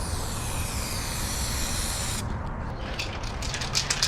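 Touch-up paint hisses steadily from a ScratchesHappen spray can during a metallic car paint coat, the spray stopping partway through, followed by a few faint clicks and rustles.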